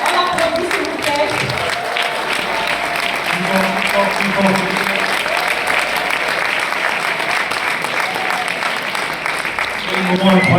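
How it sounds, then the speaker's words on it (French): A conference audience in Paris breaks into continuous, full applause that holds at an even, lively level throughout, with scattered voices mixed into the clapping. "On applaudit s'il vous plaît."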